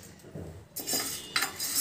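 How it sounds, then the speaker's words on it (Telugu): Wheat grains are roasted in a thick pan on a stove, producing a quiet scrape and then bright metallic clinks and rattles of stirring against the pan, close and alone without talk. "ముందుగా నేను గోధుమలు వేయిస్తున్నాను"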